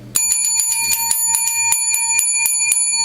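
A bicycle bell rings rapidly and repeatedly, bright metallic dings in a quick steady rhythm, loud and close.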